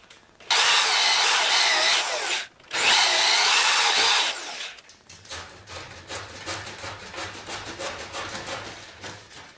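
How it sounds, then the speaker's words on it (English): A power drill fitted with a hole saw bites into a log to shape a tenon, two loud sustained cutting bursts with a brief pause between them, followed by a quieter, uneven drill whine and rubbing as the cut slows. "I'm going to make the tenon connection with the hole saw"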